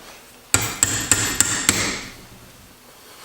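Five sharp metal hammer strikes drive a socket onto a tie rod end from an Outlander 6x6 in a roadside emergency repair, loud and close, evenly spaced with ringing decay and no talk.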